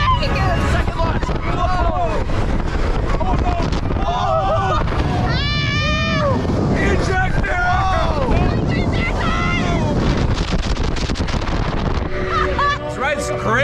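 A MACK launched roller coaster ride at Plopsaland De Panne, with loud constant wind roar and track rumble buffeting the microphone while riders scream and shout throughout.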